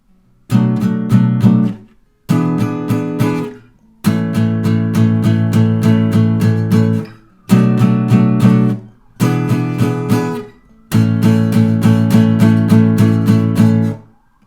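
Acoustic guitar strummed through the chords of a song, a gentle steady pattern played alone in six phrases with short pauses between them, close and clear with no voices.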